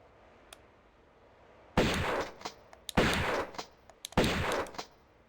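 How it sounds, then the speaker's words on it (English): Three loud shotgun blasts from Tomb Raider 1 Remastered, each a sharp broadband crack with a short decaying tail, spaced roughly a second apart after a faint click, with no talk. "try and get this done a little faster with the power of shotgun."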